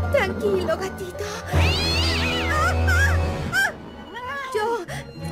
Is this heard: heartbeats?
no